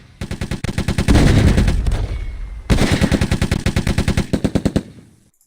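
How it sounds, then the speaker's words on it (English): Rapid bursts of automatic gunfire from enemy troops in the PC war game Close Combat, loud and close, rattling in dense volleys with a brief gap before another sustained salvo that tapers off into separate shots. "they're shooting right away"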